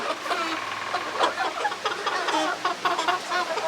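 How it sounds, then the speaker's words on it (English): Several chickens cluck and squawk busily at close range, overlapping calls with a faint engine hum underneath. "crazy chickens"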